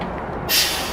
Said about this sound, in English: That's letting air out of the brakes.